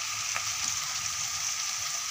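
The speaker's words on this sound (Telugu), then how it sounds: "ఇలా కొంచెం దంచుకొని వేయించుకోవాలి" Crushed garlic frying in hot oil in a home kitchen, a steady bright sizzle with faint crackles, close and continuous with no talking.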